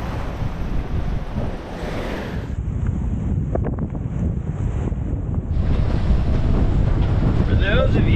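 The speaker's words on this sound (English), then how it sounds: "Yeah, we have a 25 knot breeze." A strong 25-knot wind blows across a sailboat, a loud, continuous roar of wind buffeting the microphone over rushing waves and water, close and unbroken, with no talk.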